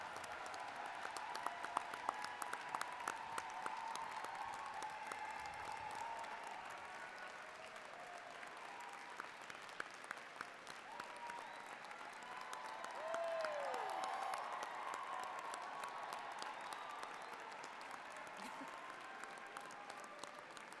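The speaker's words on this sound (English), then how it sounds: "Give the grads a round of applause." Sustained applause from a large convocation audience celebrating Red River College Polytechnic fall graduates in a big hall, a steady wash of clapping that holds evenly for about twenty seconds with no break.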